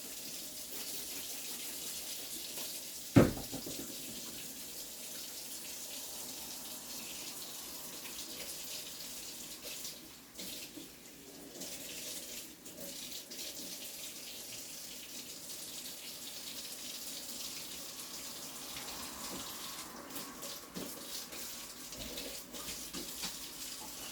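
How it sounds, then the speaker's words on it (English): A kitchen tap runs steadily into a sink while a spatula is rinsed of butter, the faint even water flow broken by a sharp knock early on and shifting splashes as the utensil moves under the stream. "I'm just going to wash my spatula here to get the butter out of that container."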